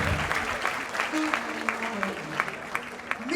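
An audience at a children's award ceremony applauds steadily, the clapping dense and sustained, with a few voices faintly underneath.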